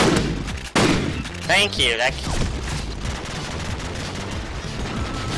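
Gunfire from Call of Duty 4 in a gun game match pops in dense, loud bursts, including a shotgun, layered over game noise, while someone talks over it.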